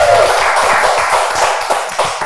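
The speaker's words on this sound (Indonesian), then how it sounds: "Tepuk tangan dulu." Hand clapping in a studio talk-show setting, a short, close run of quick claps from a small group, fairly loud and alone without talk.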